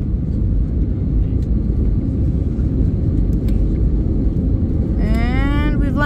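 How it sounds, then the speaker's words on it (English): A passenger jet landing at BWI airport in Baltimore: a steady, loud, close engine and airframe rumble fills the cabin throughout, with a rising whine appearing near the end. "Now we're about to land at BWI."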